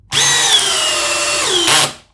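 A Milwaukee M12 subcompact drill spins up loudly and runs steadily for about a second and a half, its whine dipping briefly under load before a final surge and a quick spin-down, with no voices.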